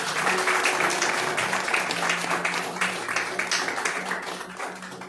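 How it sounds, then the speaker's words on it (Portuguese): A church congregation claps together during a night service, a steady run of hand claps that fades slightly toward the end, with a faint sustained tone beneath. "Dá as palmas para Jesus nessa noite."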